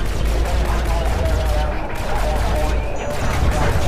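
Sustained dense gunfire from Call of Duty: Infinite Warfare rattles continuously at high volume, rapid automatic bursts layered with explosions and battle noise, with a voice speaking over the din.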